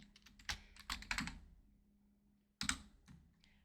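Bursts of computer keyboard typing, quick clustered keystrokes near the start and another short burst later, with a low steady hum beneath and no speech.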